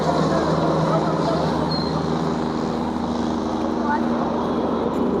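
A steady mechanical drone with a low rumble fills the scene as a joyride helicopter runs nearby at the 2025 Maha Kumbh Mela in Prayagraj, with people talking over it.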